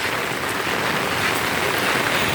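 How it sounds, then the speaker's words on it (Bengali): Heavy rain pours down in a dense, unbroken hiss, loud and even throughout, with no voices. "সারাদিন ব্যাপী এরকম বৃষ্টি খুব একটা পাওয়া যায় না বছরে"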